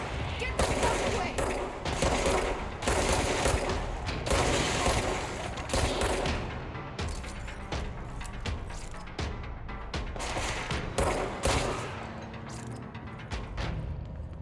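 Gunfire in the action video game Control: rapid, dense volleys of shots with booming impacts and mechanical clicks, loud and nearly continuous, thinning out toward the end.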